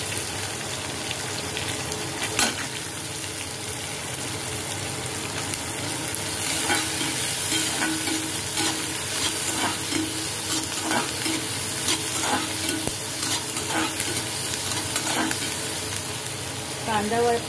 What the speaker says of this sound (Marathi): मिरची, जिरा, हिंग, त्याच्यामध्ये आपल्याला कांदा टाकून घ्यायचा।